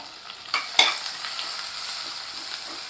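Onions sizzle steadily in a hot pan while being sautéed, with two sharp scraping stirs early on and a soft continuous frying hiss close by.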